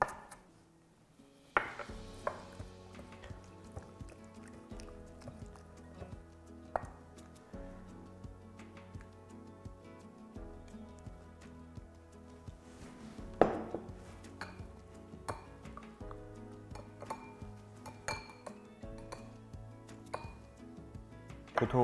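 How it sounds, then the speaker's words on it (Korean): A knife finely slices thin spring onions on a cutting board in a home kitchen, a steady run of quick, light chopping taps with occasional louder knocks, all close-up and continuous. "이 실파까지 한번 썰어줄게요."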